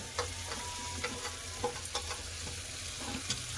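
Fried potatoes being stirred into a cooked-down spice masala in oil, a steady close sizzle broken by repeated scraping stirs at an uneven rhythm, with no talk.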